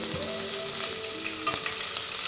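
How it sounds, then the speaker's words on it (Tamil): Ginger, cashews and black pepper sautéing in a pan for venpongal, giving a steady close oil sizzle with light crackles and a brief stirring scrape, with no voices. "இப்போ வதக்கி விட்டுறலாம்."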